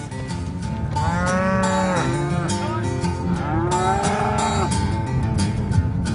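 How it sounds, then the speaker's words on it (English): Cattle lowing repeatedly as cowboys and cowgirls herd them across open range, several drawn-out moos overlapping one another against steady outdoor background noise. "It's almost a daily job for the cowboys and cowgirls to keep these cattle moving."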